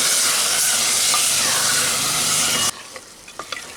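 Mutton sautés loudly in a pressure cooker with a dense, hissing sizzle that stops abruptly, leaving quieter scattered clinks and scrapes from stirring.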